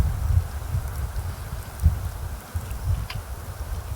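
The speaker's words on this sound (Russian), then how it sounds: "Еще и ветер добавляет." Wind blows through snowy Siberian taiga beside a larch campfire, a low, gusty rumble buffeting steadily for the whole stretch with no voices.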